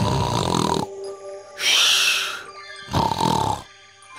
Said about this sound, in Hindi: ये खर्राटे की क्या आवाज है, लग रहा है जैसे बादल गरज रहा है।